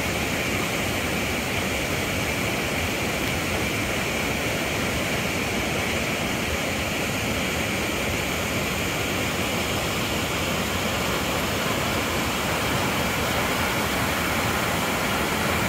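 Kegon Falls in Nikko, Japan, roars as a constant dense rush of falling water, steady and broadband with no breaks from start to finish.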